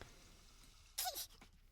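A baby in a video game gives a single quick sneeze, short and fairly close, standing out briefly from a quiet background.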